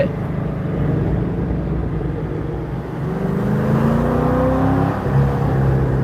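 Rumbling exhaust from a 2013 LS3 C6 Corvette on the road, a steady loud drone that swells as revs climb toward the end, with another car nearby.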